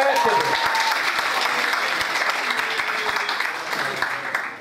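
An audience at a Turkish cultural talk and author meeting applauds İbrahim, a dense, steady clatter of many hands clapping close by for several seconds with a few sharper claps standing out.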